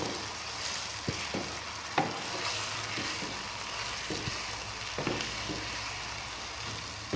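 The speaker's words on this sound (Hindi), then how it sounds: "चिकन को भी अच्छी तरह भूनना है" Chicken fries in a pan with a continuous close sizzle, while stirring adds occasional scraping clicks and knocks at an even, moderate loudness.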